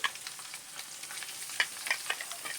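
Chicken pieces going into hot oil for a Telugu-style chicken fry on a medium stove, giving a steady, soft sizzle with scattered crackles and pops close by, with no voices.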